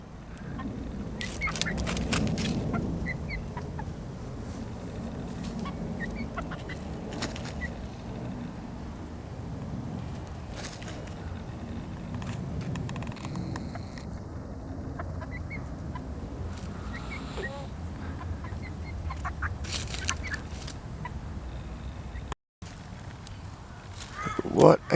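Backyard chickens free ranging over compost in an urban permaculture garden cluck softly and steadily, with low scratching and rustling close by and brief chirps throughout, under occasional nearby talk.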